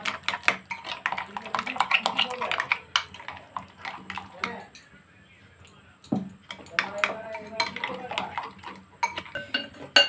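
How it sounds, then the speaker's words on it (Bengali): Yogurt mixed with a spoonful of gram flour is beaten in a bowl for a Bengali curd okra dish, giving a rapid run of close metallic clinks and taps of utensil against bowl, pausing briefly midway before resuming. "খুব ভালো করে দইটাকে ফেটিয়ে নিতে হবে।"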